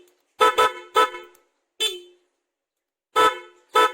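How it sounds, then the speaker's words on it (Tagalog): A stock car horn honks in short, loud blasts: a quick double toot, a single beep, then another pair after a pause, with silence between. "Testing pa natin yung stock horn."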